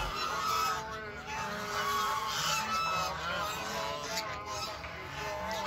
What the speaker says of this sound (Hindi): ये देखो सारी बत्तख जा रही हैं अंदर